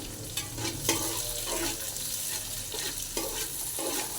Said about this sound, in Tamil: கருவேப்பிலை போட்டு அப்புறம் வெங்காயம் போட்டுக்கலாம் நல்லது இதுவாக வெங்காயம் வந்து நல்லா வதங்கணும்